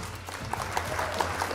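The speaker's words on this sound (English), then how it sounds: "Round of applause for you, Six." Applause breaks out in a short, steady wash of clapping, moderately loud and continuous, with no voices on top.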